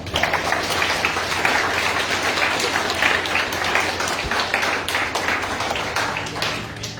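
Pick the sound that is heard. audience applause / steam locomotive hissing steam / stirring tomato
audience applause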